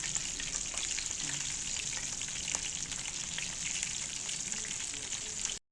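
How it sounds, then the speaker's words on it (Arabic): Crispy chicken pieces frying in oil in a pan, a dense continuous crackling sizzle at an even level that cuts off abruptly at the end, with no voices. "انا حطيت الزيت اللي عندي اهو، قاعده اقلب فيها بقى عشان تستوي. هحط بقى بقيه كميه الفراخ."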